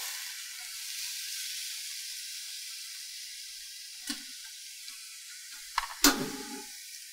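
Meatball filling stir-fried in a wok with soy sauce going in: a steady sizzling hiss that fades, then a few short clatters and splashes near the end, no talking.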